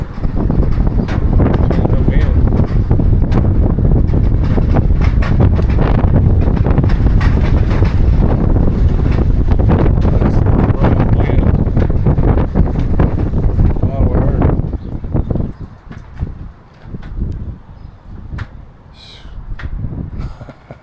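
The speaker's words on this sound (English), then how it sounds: "this wind around here is rough" Strong storm wind roars steadily against the microphone for about fifteen seconds, then drops to gusty, intermittent buffeting with a few sharper knocks.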